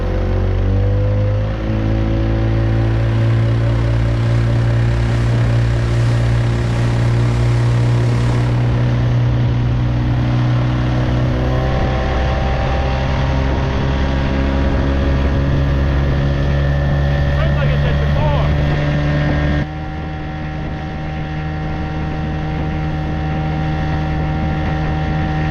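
A small boat's outboard engine pushed to full throttle on water in the Scottish Highlands, a loud, close, steady drone with a rising pitch, then settling slightly lower near the end.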